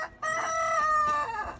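A rooster crows once, near and loud: a single drawn-out, harmonic call that rises and then tails off, with no talking over it.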